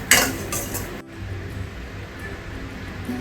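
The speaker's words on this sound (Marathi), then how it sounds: "मी थोडी खसखस टाकणार आहे आणि ती सुद्धा अशी तुपामध्ये परतून घेते" Poppy seeds roasting in ghee in a kadhai, a spoon clattering against the pan with a sharp metal knock at the start, then a soft continuous frying hiss and faint scraping, close by with no talking.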